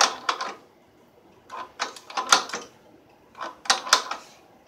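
A wrench tightens a Chevy Saginaw power steering pulley installer on a pickup, giving close, crisp metallic clicking in three short bursts separated by pauses.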